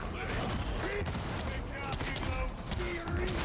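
Rapid gunfire from enemy gunners in the game Darktide, a dense, continuous rattle of shots with a few tonal effects layered over the top.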